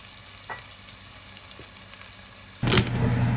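Onions fry for a brinjal and egg curry, a quiet low sizzle with a faint stir, then a sudden louder burst of frying noise near the end that continues close and steady.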